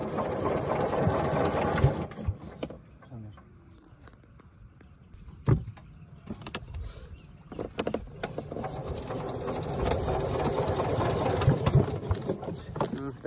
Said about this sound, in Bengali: মেশিনে স্টার্ট উঠতে একটু সমস্যা হচ্ছে।